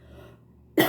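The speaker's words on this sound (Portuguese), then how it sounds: "Me perdoe pela minha tosse." A single short, harsh cough bursts out abruptly at the very end after a moment of near-quiet.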